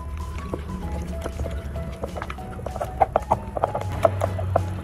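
Water poured into a sweet potato mixture, a soft liquid splashing and trickling with small bubbly plops, close by under a low background hum.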